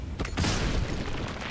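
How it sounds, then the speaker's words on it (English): A smoke powder bomb goes off in Baldur's Gate: a dense, close burst of noise that swells and then hangs as a sustained hissing rush lasting over a second, with no voices. "a good old smoke powder bomb? And away I go."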